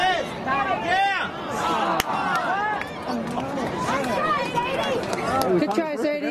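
Crowd noise at a high school wrestling match, Belzer vs Chapel Hill, with steady babble, shouts and excited calls rising throughout and one sharp spike near the middle.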